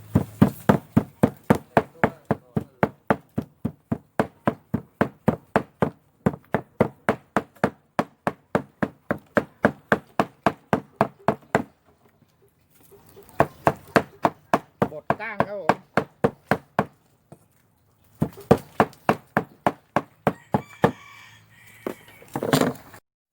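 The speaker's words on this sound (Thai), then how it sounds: "บดเนื้อฟักเนื้อครับ เขียงเราอาจจะใหญ่ไปหน่อยนะครับ" Rapid, steady chopping of fish meat on a large cutting board, a knife thudding in fast regular strokes, with a few brief pauses and a short voice near the end.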